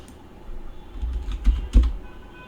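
Keys on a computer keyboard are tapped in a short burst while entering a search, a few soft clicks then two louder thumps near the end, close and alone.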